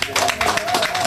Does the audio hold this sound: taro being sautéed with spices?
no